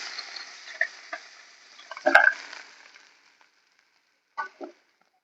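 Bata fish frying in hot oil in a pan: a steady sizzle with spatula stirring and clatter, a louder burst midway, then quiet before a couple of brief knocks near the end.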